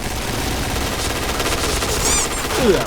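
Kriss submachine gun fire in the shooter game Point Blank, a steady dense stream of loud rapid shots with no pauses, close and dominant, with a brief whistling ricochet-like flourish near the end.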